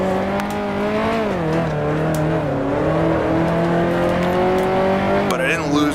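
A 1955 Formula One car in Grand Prix Legends accelerates hard out of a chicane, its engine note climbing steadily and loud throughout, with someone talking over it.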